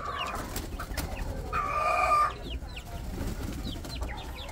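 Chicken calls from a backyard poultry pen, with two chicks kept separately nearby: short clucks and chirps over steady background noise, with a louder sustained call in the middle.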